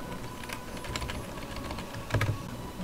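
Fingers tap a computer keyboard during play of Castlevania: Lords of Shadow Ultimate Edition, light clicks scattered over steady game audio, with a brief denser burst of keystrokes near the end.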